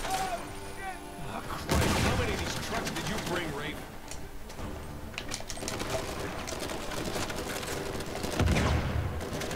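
Rapid bursts of game gunfire in Uncharted 4, dense and loud through most of the stretch with heavier blasts near the start and end, under ongoing talk.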